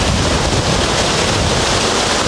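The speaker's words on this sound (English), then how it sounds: "Look how windy it's getting." Strong wind roars steadily at the shore during a freak storm, a loud continuous gusting rush buffeting the microphone with broadband noise and no pauses.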